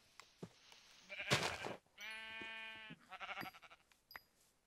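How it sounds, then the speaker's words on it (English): A few clicks, then a loud digitized sheep bleat in a survival video game, another shorter bleat, and scattered small game sounds, all fairly close and clear. "There's a sheep."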